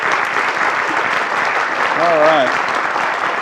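Steady audience applause fills a town hall meeting from start to finish, with a brief spoken voice rising over the clapping midway.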